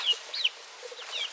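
A mother hen near her nest gives soft, scattered clucks, a few brief calls spread over a second or so, fairly close and alone without any talking.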